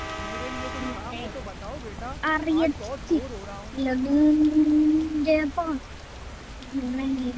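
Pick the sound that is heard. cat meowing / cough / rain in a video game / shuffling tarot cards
rain in a video game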